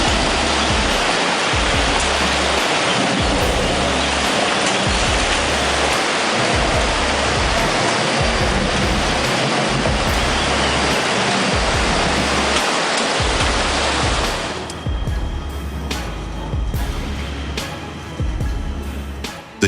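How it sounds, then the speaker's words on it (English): A loud, continuous rush of churning water as a heavy vehicle ploughs through a river, the roar easing near the end as an engine hums. "Watching it forge through the river like it owns the place"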